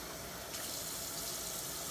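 Tap water running to cool cooked rice, a steady faint hiss of flowing water that brightens and grows slightly fuller about halfway through, with no voices.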